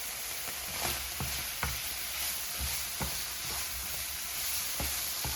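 Bay scallops seasoned with salt, black pepper and garlic powder sizzle steadily in a hot pan, with a constant frying hiss broken by periodic scraping stirs and clinks, close up and with no talk.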